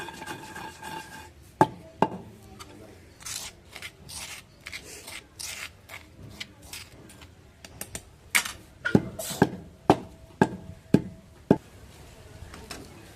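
Gongura chutney with salt is pounded in a stone mortar, giving a run of close, sharp knocks and grinding scrapes that build into steadier rhythmic thuds toward the end.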